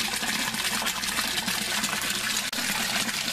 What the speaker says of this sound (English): The water's been running for about an hour